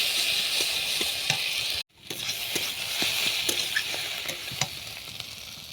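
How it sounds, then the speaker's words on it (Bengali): Ground flat bean seed paste frying in oil in a pan, a steady close sizzle with light spatula scrapes, broken by one brief moment of silence before the frying resumes. "এই তেলে সিমের দানাটা একটু ভেজে নেব ভালো করে।"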